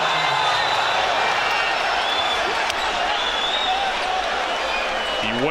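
Basketball arena crowd gives sustained applause and cheering for a player who has just fouled out, a dense steady roar throughout with a sportscaster's voice talking over it.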